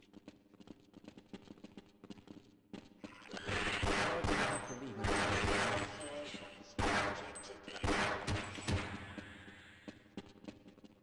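Rapid bursts of gunfire in a video game, loud and dense through the middle with several heavy volleys, while voices talk over the shooting.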